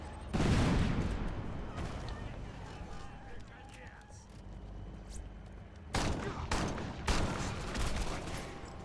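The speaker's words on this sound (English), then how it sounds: "that guy just has a grenade gun" A grenade gun fires in the Crackdown video game, with loud bursts of explosive gunfire near the start and again in clustered shots later, and a person talking over the action.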